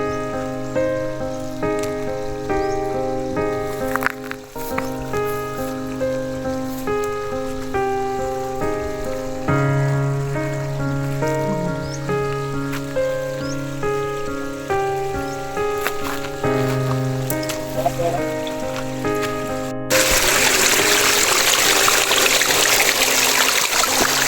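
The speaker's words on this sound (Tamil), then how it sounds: "இதான் காட்டூர் ஃபால்ஸ் நம்பர் 1." Kattur waterfall, Falls No. 1: music plays for most of the stretch, then gives way to a loud, steady broadband rush of falling water in the final seconds.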